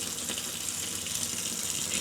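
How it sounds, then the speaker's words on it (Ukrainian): Cold water runs steadily from a kitchen tap over dried peas being rinsed, a continuous close-up splashing stream with no pauses. "я просто беру, вмикаю холодну воду, набираю отак ось горох"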